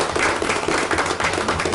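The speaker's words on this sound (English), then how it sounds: "So I would ask for a round of applause for those that couldn't be here today." Applause from people gathered at a county fiscal court meeting, a dense, steady patter of many hands filling the room without a break.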